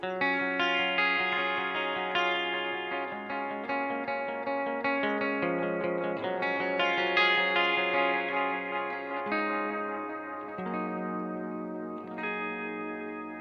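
Electric guitar played through a Line 6 DL4 MKII delay pedal with the mix turned up, ringing chords smearing into repeating echoes and a lush, sustained wash, played continuously with no talking.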